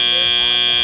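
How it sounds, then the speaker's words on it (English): End-of-match buzzer at a 2018 FIRST robotics regional competition in San Diego, a loud, continuous, sustained electronic tone. "And that's the buzzer"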